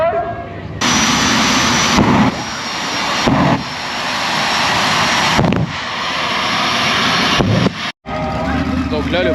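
Roaring engine noise at a Gilgandra Show tractor-versus-monster-truck tug of war, loud and continuous, with brief surges and a short dropout near the end.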